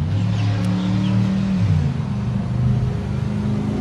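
A Cummins X15 Efficiency Series diesel rated at 500 horsepower idles steadily in a 2019 Peterbilt 579 UltraLoft sleeper truck, a loud, continuous low rumble with a slight shift in pitch partway through and no talk.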